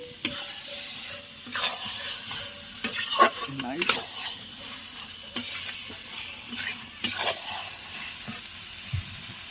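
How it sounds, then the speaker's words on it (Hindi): Chicken sizzles in a pan while it is sautéed, and a spoon scrapes and clinks against the pan at irregular moments. The frying stays at a steady moderate level throughout. "चिकेन मु कषुची"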